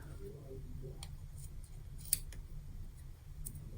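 Scissors cut through a paper printable for a planner, giving a few faint, soft snips and clicks over a low background hum.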